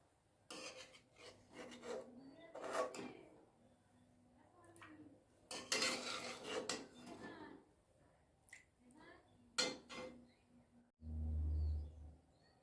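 A spatula scrapes and rasps against a pan while pan-fried paneer, browned light red in oil, is lifted out. Irregular scraping bursts come close and fairly quiet, ending with a low dull thud.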